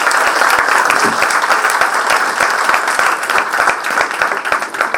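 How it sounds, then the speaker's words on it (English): A large audience at a thematic dance performance applauds in a long, full round of clapping, loud and sustained, with a few sharper claps standing out near the front. "let's give a final round of applause to the audience"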